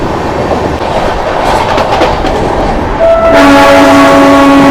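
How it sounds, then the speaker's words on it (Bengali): A train rattles past close by, overtaking a Howrah–Bardhaman local train, with steady clattering wheels, then a loud, sustained horn blares over the rushing noise. "Train overtake Howrah Bardhaman local."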